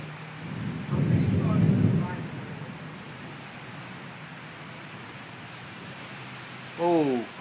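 A rumble of thunder rolls through briefly over steady rain-like noise, followed by quiet hiss and a short voice at the end.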